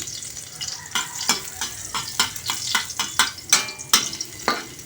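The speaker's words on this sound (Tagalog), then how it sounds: "magsimula tayo maggisa" Garlic sizzles in hot oil in a pan while being stirred, a bright crackling fry punctuated by repeated sharp scrapes and taps of the spatula, close and lively, with no talking.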